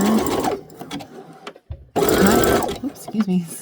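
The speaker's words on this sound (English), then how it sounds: "all you need to do as you sew this batting together" A sewing machine stitching layers of quilt batting together, a close motor whir that runs in short bursts and briefly stops. Someone talks over it throughout.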